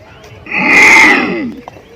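A man imitates a tiger's roar, voicing a single loud, drawn-out growling call that swells and fades over about a second, with no other speech.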